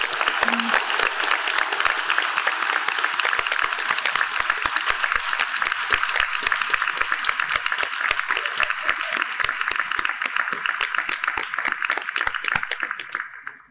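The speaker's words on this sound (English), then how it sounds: "let's give them a round of applause." Sustained applause from the audience at a university degree ceremony in Harrogate, honouring graduates' families: dense, steady clapping from a large crowd that continues for several seconds before fading out at the end.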